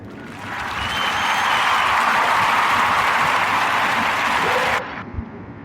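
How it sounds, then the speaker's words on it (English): A crowd breaks into sustained applause for a guest that swells, holds steady for several seconds, then cuts off abruptly. "Warm round of applause"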